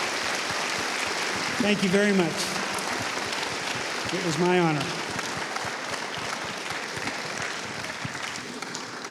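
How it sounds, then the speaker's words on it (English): Audience applause at a Hall of Fame lifetime achievement award ceremony, a steady broadband wash of clapping throughout, with someone speaking over it briefly in the middle. "So give them a round of applause."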